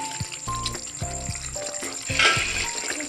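Keema (minced meat) dry-roasting in a pan over a raised flame, a steady close sizzle with a brief louder hiss of stirring near the end, no talking.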